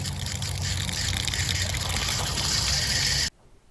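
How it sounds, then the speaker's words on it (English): Water gushes steadily from a newly restored household water service at an elderly woman's house, a loud, continuous broadband rush that cuts off abruptly near the end. "Sound of that water is music to Miss Walters' ear."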